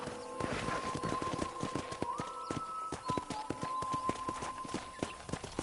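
Steady clip-clop of horse hooves trotting along in the video game Red Dead Redemption, close and rhythmic, with a faint whinny partway through and no talking.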